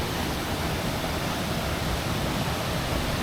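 A waterfall pours among rocks and ferns in the Welsh countryside near Dolwyddelan, giving a steady, even, broadband rush with no other sounds or voices.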